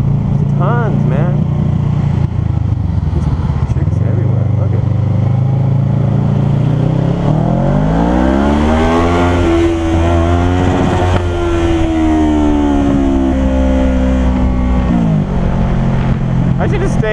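A Kawasaki Ninja motorbike in Taipei revs in first gear, its engine note climbing and falling repeatedly in a loud, close whine, with someone talking over much of it.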